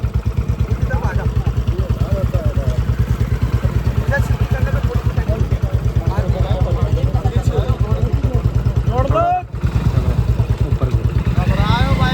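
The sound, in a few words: motorcycle engine at a race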